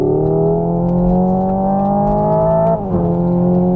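A Hyundai Ioniq 5 N electric hot hatch plays its augmented, engine-like sound, a loud, layered tone that climbs steadily, breaks sharply as if shifting gear, then rises again.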